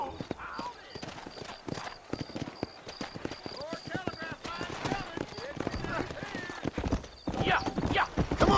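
Horses' hooves clip-clop steadily in Red Dead Redemption, a rapid continuous beat of several animals moving through a western town, with a horse whinnying and characters talking over the hoofbeats.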